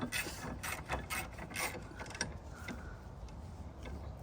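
Ratchet wrench tightening bumper bolts on a Volvo V70 XT, a run of quick clicking pawl strokes that slows and fades toward the end, faint and close.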